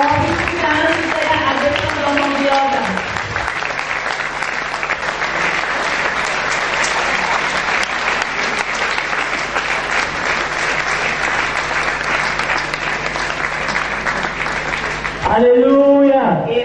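A church congregation breaks into sustained applause, dense loud clapping lasting over ten seconds, with a voice talking at the start and again at the end.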